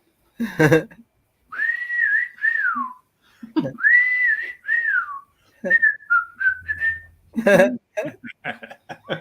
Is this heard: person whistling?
yes